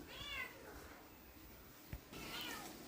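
A cat meows faintly, once at the start and again toward the end, with quiet background noise in between.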